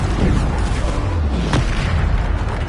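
Bombarda spell explosion in Hogwarts Legacy, a loud, dense, rumbling blast with a sharp burst near the middle, set in continuous noisy game action.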